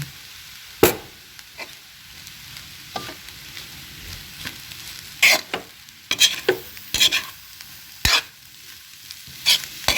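Tomatoes tossed into a hot frying pan, a soft sizzle under repeated sharp scrapes and clatters of stirring, close and fairly loud, with no talking.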